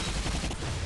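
Gunfire aimed at tanks in Bulletstorm, a dense, continuous burst of shots and blasts that fills the whole moment at steady, loud level with no pause.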